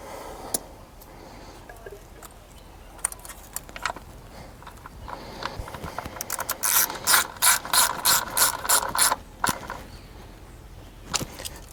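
Ratchet wrench torquing a spark plug on a Chrysler 200 3.6L V6, a run of quick close metallic clicks in a steady rhythm after scattered lighter clicks, close and clear with no talking.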